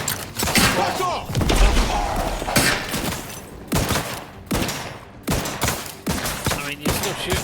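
Rapid gunfire bursts in The Outer Worlds 2, loud and close, with repeated volleys and thuds over about seven seconds, mixed with shouted game voices.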